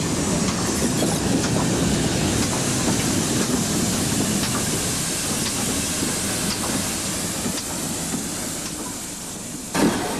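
Steam locomotive 46443 pulls into Highley station on a heritage railway, a steady loud rumble of wheels and clanking carriages with hissing steam running continuously throughout.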